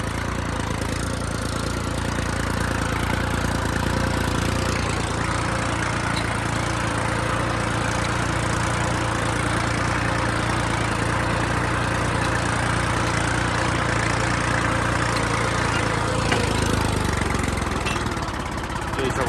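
A Yuvo tractor engine drones steadily while pulling a 14-disc harrow for the whole stretch, a loud, even diesel rumble with faint voices in the background.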